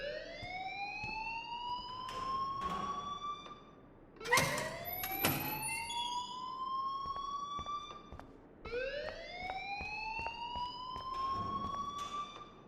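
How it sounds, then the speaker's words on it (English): A fire alarm in the video game Life Is Strange sounds in repeated rising electronic sweeps, three long wails with a sharp burst of shrill chirps between them, loud and alone. "please turn off that alarm since that's your job"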